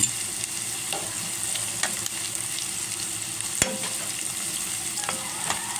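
Garlic frying in a pan during chicken curry cooking, a steady close sizzle with occasional faint clicks of stirring.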